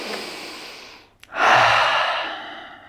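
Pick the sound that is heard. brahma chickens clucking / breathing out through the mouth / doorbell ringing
breathing out through the mouth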